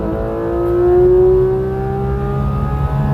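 A Porsche GT3 RS with a ported throttle body pulls hard in second gear, its engine note climbing steadily in pitch with a loud, close, droning roar heard from inside the car.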